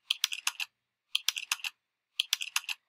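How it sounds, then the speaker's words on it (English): Three short bursts of rapid keyboard typing, crisp clicking keystrokes separated by brief pauses, close and fairly quiet. "Oh, it's me typing."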